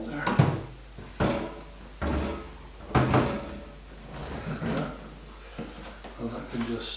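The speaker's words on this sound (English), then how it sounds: "we can now put our fridge door on, making sure that that goes into the pin that we just put on there" A fridge door is lifted and fitted onto its hinge pin, giving a series of knocks and clunks of the door and fittings, with a person talking throughout.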